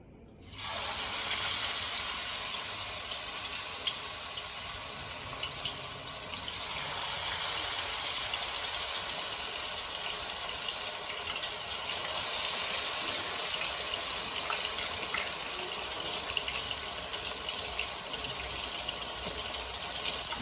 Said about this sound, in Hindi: अब हम फ़िश को जो है वो फ्राई करना स्टार्ट करते हैं।